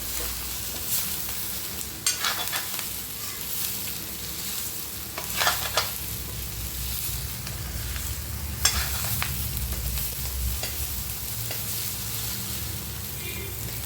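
Vegetables stirred in a pan over low gas heat for an Indian home-cooked dish, a steady scraping and soft sizzle running throughout, with a few sharper clatters of the spoon against the pan.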